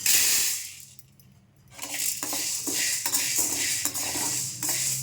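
About 100 peppercorns dry-roast in a pan over a low flame, rattling and skittering against the metal in close, irregular bursts after a brief lull.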